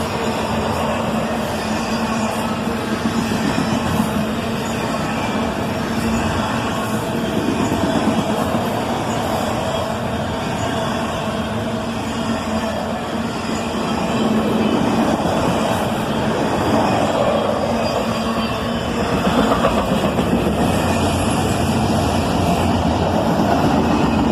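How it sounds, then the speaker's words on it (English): Southbound autorack freight train led by an ES44DC and an ES40DC locomotive, a loud, continuous roar of engines and rolling cars with sustained horn-like tones layered through, fairly close and steady for the whole stretch, with no voices. "a great little horn show as an ES44 DC and an ES40 DC lead a southbound autorack train"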